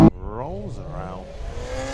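Drag race cars launching almost together at a drag racing festival, a brief loud burst followed by rising, sweeping engine roars that fade into a sustained rumble, with a voice speaking over the noise.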